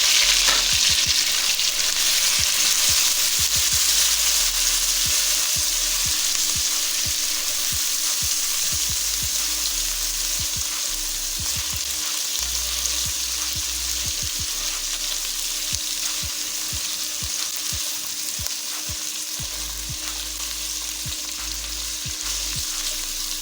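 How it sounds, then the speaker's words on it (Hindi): Pre-boiled beef pieces fry in a pan for palak gosht, a dense continuous sizzle with crackling pops and occasional stirring scrapes, close and steady throughout. "ये गोश्त हमने पहले से उबाल दिया था। ये इसमें डाल के फ्राई करेंगे।"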